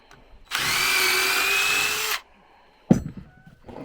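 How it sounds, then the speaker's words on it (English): A power drill bores a pilot hole for screws into wood in one continuous high-pitched whir of under two seconds, followed by a short clatter and some faint background noise. "I'm drilling it because I don't want this wood to split"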